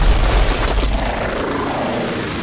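Aircraft-like engine drone from a hovering drone overhead in Call of Duty: Modern Warfare 3, a loud, sustained low rumble with booming game noise throughout.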